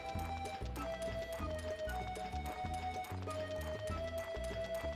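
Horse hooves gallop at a steady, rhythmic clip-clop while riding across the Suikoden 3 overworld, over a looping game music track that stays loud throughout.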